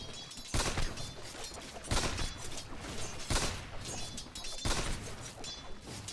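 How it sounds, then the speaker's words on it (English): Sniper hero's rifle shots in Dota 2, four sharp cracks spaced about one and a half seconds apart, each a crisp burst over a steady ambient background of game noise. "Shooting"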